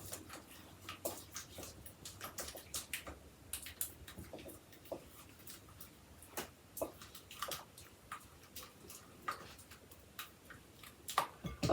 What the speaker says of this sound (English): I'm just going to mix that really good